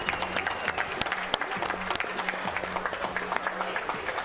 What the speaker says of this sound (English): Crowd claps because of what they saw.